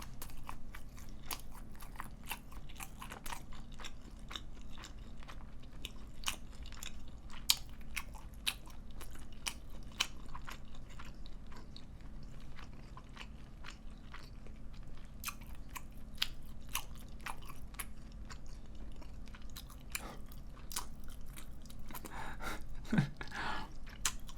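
Someone eating a GS25 pork loin cutlet lunchbox, with close, crisp crunching bites of breaded pork and steady chewing repeating through the quiet, no talking.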